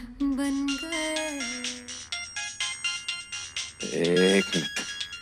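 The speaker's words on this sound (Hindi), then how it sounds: "सारे फोन गलत टाइम पे ही बजते हैं।" A phone ringtone plays loudly as a repeating melodic jingle, with steady tones broken into short pulsing bursts, following a stretch of song with a voice.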